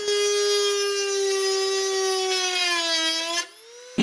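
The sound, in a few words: Dremel rotary tool marking thin sheet metal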